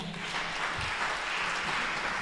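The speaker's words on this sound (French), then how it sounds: "sous vos applaudissements" Applause from an audience greeting a committee at an award ceremony, a soft, steady patter of clapping heard at a distance and fairly faint throughout.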